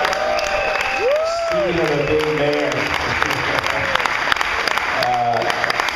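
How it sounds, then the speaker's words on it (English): A drum clinic audience in Negril, Jamaica claps and cheers for Woody, a steady wash of applause with whoops running under a voice speaking over it. "Let's give Woody a little cheer here."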